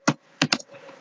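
Code being typed on a computer keyboard: four crisp, close keystrokes in a quick uneven burst, two landing almost together, in a quiet room.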